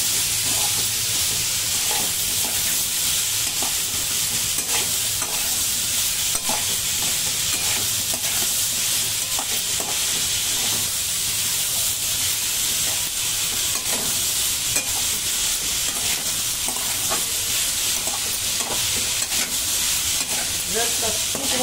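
A mushroom and vegetable stir fry, seasoned with salt and black pepper, is stirred in a hot pan, giving a dense, steady sizzle with scraping and clatter throughout.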